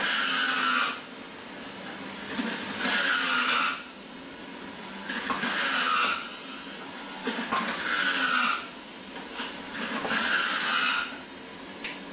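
A standard high-speed juicer runs in several loud, whining bursts of about two seconds each, separated by brief quieter gaps. The motor sounds close and steady within each burst.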